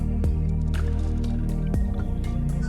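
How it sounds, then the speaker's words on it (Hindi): Water dripping and running through a narrow, run-down lane in Old Delhi, a steady wet wash with a few sharp drip-like splashes standing out near the start and again midway, no one talking. "जमीन पे भी यहाँ पानी बह रहा है"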